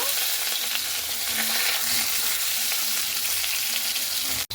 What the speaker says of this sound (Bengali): মিষ্টি কুমড়োটার সঙ্গে একসঙ্গে এইভাবে আমি ভেজে নেব